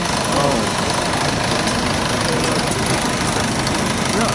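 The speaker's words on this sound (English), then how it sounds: "No, I think this is just another model traction engine." An old model traction engine runs at the Malvern Autumn Show agricultural event, giving a steady low idling chug with mechanical vibration that continues evenly throughout, and voices talk over it.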